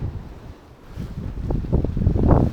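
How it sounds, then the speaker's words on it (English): Strong wind buffets a sailboat in 28-knot gusts and two-metre waves off the Friul Islands, a steady roar of wind noise on the microphone with water surging and slapping, building louder toward the end. "I had wind speeds up to 28 knots, and the waves were some even 2 meters high"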